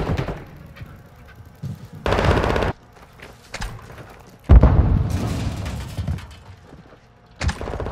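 Bursts of automatic machine gun fire in Call of Duty: Modern Warfare 2, with loud sustained volleys broken by short gaps and shorter shots, plus mechanical clatter between them.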